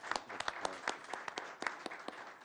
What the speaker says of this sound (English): just give her a round of applause first